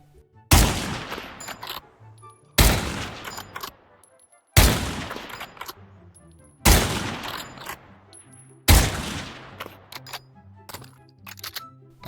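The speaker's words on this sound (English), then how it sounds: "The Kar 98 has a new sound, which honestly makes it seem more powerful now." Five loud, sharp Kar 98 bolt-action rifle shots in the VR game Pavlov VR, evenly spaced about two seconds apart, each with a long ringing tail and faint metallic clinks between them.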